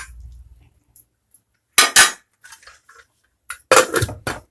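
A spoon stirs boti masala in a pressure cooker with water, producing a few loud metallic scrapes and clanks in short bursts separated by quiet gaps, close up.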